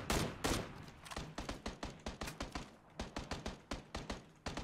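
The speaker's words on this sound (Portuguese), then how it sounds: "Ele tá atirando, Vini?" Rapid gunfire in the battle royale video game PUBG Battlegrounds, a dense string of sharp, close, loud shots in bursts with brief gaps, heard alone without talk.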